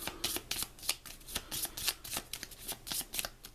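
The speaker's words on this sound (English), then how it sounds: "I'll give it another quick shuffle" A deck of Legendary Encounters: The X-Files game cards is shuffled by hand, a rapid series of crisp riffling bursts close up, repeating steadily for several seconds with no talk.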